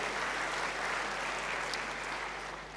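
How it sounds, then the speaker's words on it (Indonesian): Steady applause from a church congregation fills the space, dense and sustained at a moderate level throughout without a clear break. "Beri tepuk tangan yang baik bagi Dia"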